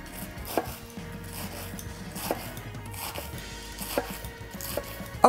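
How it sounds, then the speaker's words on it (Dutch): Iceberg lettuce is cut on a board in a home kitchen, giving about five sharp knife chops spaced roughly a second apart over soft background noise, with no one speaking. "En dan ga ik in tussentijd even de ijsbergsla snijden."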